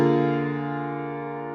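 A sustained seventh chord in first inversion, voiced in open position with the third, D, in the bass, rings out as steady layered pitches and decays gradually, alone without talk.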